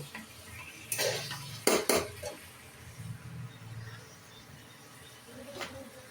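Chicken meat is stirred with garlic paste and spices in a pot: a metal spoon scrapes and clanks against the sides in a few sharp bursts, then softer intermittent scraping continues at close range.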